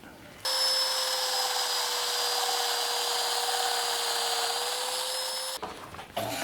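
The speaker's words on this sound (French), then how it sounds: "Donc là, je vais faire assemblage domino, domino, domino." Domino joiner cutting mortises into wooden workpieces for architect's trestles, a loud steady high-pitched motor whine that starts abruptly, holds for about five seconds, then cuts off.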